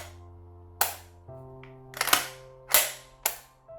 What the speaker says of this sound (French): Le levier d'armement qui s'arme comme ceci.